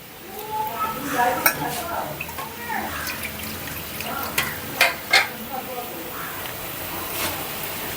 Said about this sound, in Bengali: এই যে মুরগির মাংসটা কষানো হচ্ছে